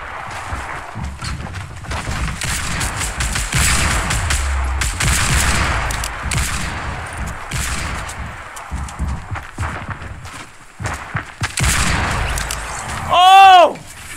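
Hand cannon shots crack out in a Fortnite Battle Royale match as sharp repeated blasts amid a busy clatter of game effects, with a chirpy pickup sound near the end and excited talk nearby.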